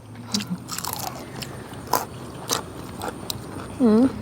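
Someone eating crisp fresh vegetables with a Thai tilapia fish chili dip, with close crunchy bites and chewing, someone speaking briefly, and a short melodic tone near the end.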